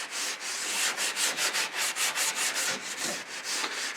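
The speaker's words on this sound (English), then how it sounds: "So I'm just rubbing off any loose primer that's attached by any overspray from the gun." A Scotch pad scrubs loose overspray primer off a classic Mini Cooper body panel, giving a close, steady rasping rub in rapid back-and-forth strokes throughout.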